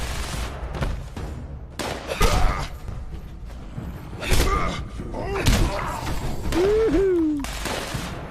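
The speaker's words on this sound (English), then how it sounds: "Providing covering fire" Bursts of gunfire ring out in a Fallout 76 battle: several loud volleys and single shots at irregular intervals, mixed with thuds and mechanical clanks, plus a rising and falling whistling tone near the end.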